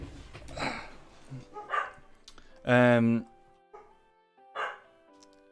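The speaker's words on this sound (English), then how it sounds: "My dog's barking" A pet dog barks at home in a room near someone who is streaming a Minecraft build. A few short barks stand out, including one loud, ringing bark midway, mixed with voices talking.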